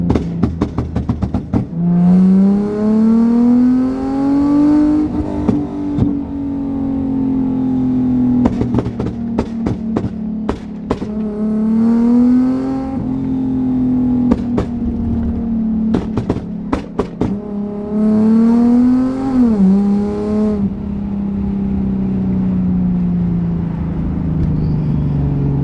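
A car engine revs repeatedly on the way to a car meet. The note rises and falls through several loud, close pull-ups and downshifts, with sharp popping bursts between revs.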